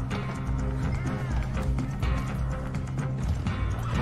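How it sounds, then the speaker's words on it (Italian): Horse hooves galloping in the video game Red Dead Online, a steady close clip-clop rhythm with an occasional whinny, heard under game music. "monta sul cavallo, dai"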